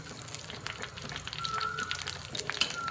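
Spices sauté in a pan for a Nagercoil-style Chalai fish curry, giving a soft, uneven crackling sizzle dotted with sharp pops and stirring clicks, growing slightly louder toward the end.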